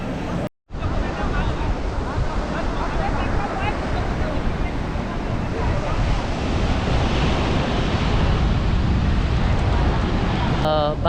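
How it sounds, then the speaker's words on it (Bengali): Wind and sea waves roar continuously at Juhu Beach, Mumbai, a loud, dense wash of surf and wind buffeting with a faint crowd murmur beneath, briefly cut by a dropout early on. "বাতাসের শব্দ, যেমন সমুদ্রের গর্জন।"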